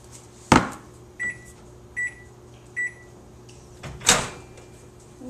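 A microwave oven warming black beans for soup: a door clunk, then three short evenly spaced beeps, then another louder clunk near the end, close and clear over a quiet hum, with no one talking.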